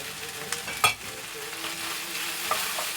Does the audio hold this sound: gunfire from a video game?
no